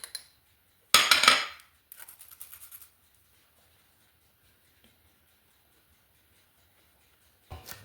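Baking powder being sifted into flour through a metal sieve: a few short bursts of scratchy metallic tapping and rattling, close and fairly loud, separated by silence.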